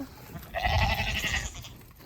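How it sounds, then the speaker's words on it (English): A farm goat lets out a single drawn-out bleat, fairly close and moderately loud, over low outdoor background noise. "She is another one of Kevin's mom's goats that she has decided to come join us."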